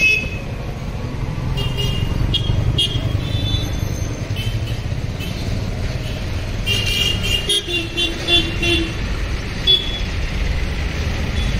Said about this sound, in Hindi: इधर से भी गाड़ी आ रही है और इधर से भी गाड़ी आ रही है गाइस, मतलब चौराहे के बीच में गाड़ियां आ रही हैं